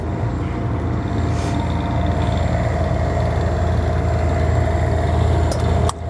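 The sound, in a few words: Onan quiet diesel 8000 generator running on RV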